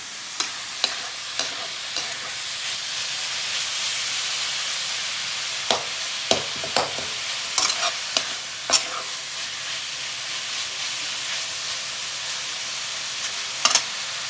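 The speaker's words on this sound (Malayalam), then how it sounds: "അപ്പം നമ്മുടെ മീൻ ചതച്ച് വറുത്ത്" Crushed dried fish fries in coconut oil with a steady, close sizzle and hiss, broken by scattered clicks and scrapes of stirring, with no voices.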